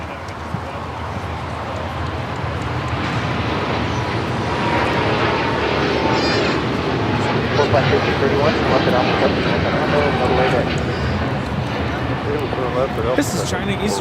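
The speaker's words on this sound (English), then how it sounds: "we've got the China Eastern 777 at 300 ER now rocking and rolling down 25 right" A China Eastern Boeing 777-300ER takes off down runway 25R at LAX, a loud, steady broadband engine roar lasting throughout, with a voice talking over it.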